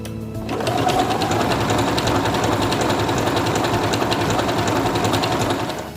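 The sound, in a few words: Singer Quantum Stylist 9960 sewing machine stitching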